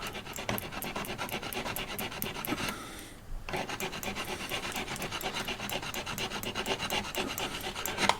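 Thin-walled aluminum being ground clean before welding: close, rhythmic rasping strokes in fast repeated passes, with a short pause partway through before the scraping resumes.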